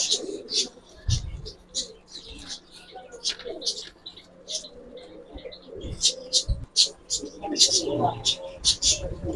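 Giribaz pigeons coo softly in a loft, with chirps and wing shuffles scattered through it while people talk nearby.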